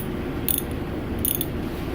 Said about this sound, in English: using my socket wrench, we're going to go ahead and tighten that up